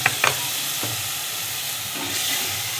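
A ground coriander and cumin masala in a pan, just splashed with a little water, gives a loud, steady steamy hiss after a few sharp clinks of the spoon at the start.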